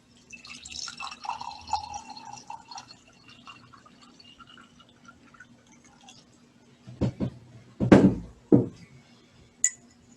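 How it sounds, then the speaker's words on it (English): Tea pours from a pot into a cup as a soft, faint trickle over a few seconds. Near the end come several sharper clinks of ceramic against ceramic, with no talking. "I would ask that all of us pour ourselves a cup of tea"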